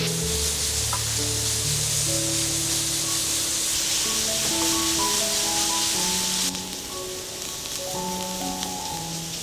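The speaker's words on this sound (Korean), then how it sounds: "센 불에다 놓고 바짝 볶아줍니다" Fried tofu and carrot for vegan gimbap stir-fry over high heat, a steady loud sizzle with soft stirring scrapes throughout and no talk.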